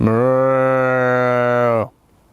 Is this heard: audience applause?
no